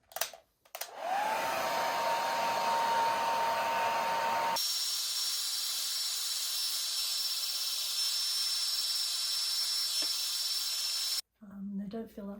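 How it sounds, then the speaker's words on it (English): A hair dryer on its highest heat setting runs steadily with a loud, whooshing hiss and a high motor whine, shifting to a higher setting midway before clicking off. "I'm going to put the hairdryer on the highest heat"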